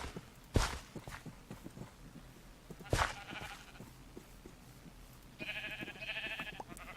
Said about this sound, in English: That's a dark gray sheep.